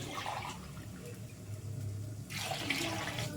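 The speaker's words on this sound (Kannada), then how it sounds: "5 ಕಪ್ಪಷ್ಟು ನೀರು ಸೇರಿಸ್ತಾ ಇದ್ದೀನಿ." Steady rush of running water as about five cups are poured into a cooking pot, growing louder and brighter near the end, with a low rumble underneath and no voices.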